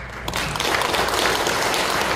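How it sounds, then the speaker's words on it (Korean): A church audience applauds to welcome a pastor coming up to preach at an academic seminar service, the steady clapping swelling after a quiet first moment and holding at a full, even level. "나오실 때 우리 박수로 인사하시기 바랍니다."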